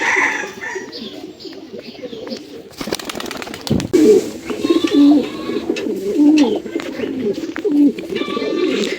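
Racing pigeons in a loft coo in repeated low, throaty bursts, several birds close by, with fluttering and clattering noises in between and a brief loud burst of wing flaps.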